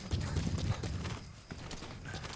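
Horse hooves galloping in the Metal Gear Solid V video game, a quick, fairly soft drumming of hoofbeats running steadily over a low background.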